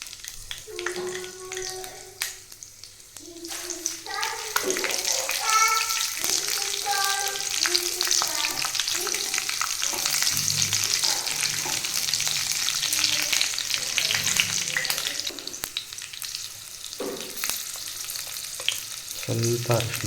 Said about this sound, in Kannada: ನೋಡ್ಬೋದು ಇದೆಲ್ಲ ಫ್ರೈ ಆಗ್ತಾ ಇದೆ